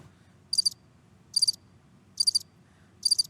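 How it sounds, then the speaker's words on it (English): Crickets chirp in four evenly spaced short bursts, each a quick trill of rapid pulses, over a faint low background hum with no voices. "Crickets."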